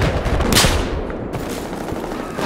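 Gunfire in Battlefield 4 multiplayer, heard as a dense, loud burst of rapid shots with a sharp crack at the start, fading into a muddy rumble of game noise with scattered fainter shots, no talk.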